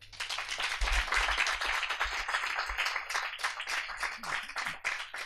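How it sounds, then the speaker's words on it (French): An audience claps to welcome Pierre Coffin, a steady patter of many hands filling the room at moderate volume and thinning slightly toward the end. "on peut l'applaudir"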